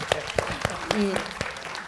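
Scattered clapping from a studio audience at a Korean talk show, sharp separate claps in a loose rhythm heard close by, with a voice briefly sounding underneath.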